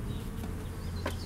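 Honeybees from a package being hived buzz close by, a faint, continuous hum with a few individual wingbeats passing near, no voices.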